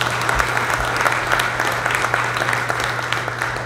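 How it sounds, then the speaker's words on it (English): A room of attendees at a North Kansas City business council luncheon gives a round of applause, a steady, even wash of many hands clapping that holds for nearly four seconds over a low electrical hum. "Rich Groves, give him a big round of applause."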